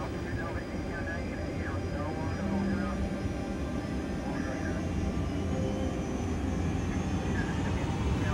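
Jumbo jet engines roar on the takeoff roll, a loud, steady, dense rumble that builds slightly and holds for the whole stretch, with faint voices beneath it.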